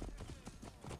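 Rapid, rhythmic clip-clop of a horse's hooves in Assassin's Creed Origins, galloping steadily at close range with no pause.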